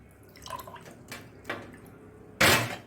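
Jal jeera drink poured into a glass, a few soft liquid splashes and trickles ending in a louder, brief gush, close and quiet with no voices.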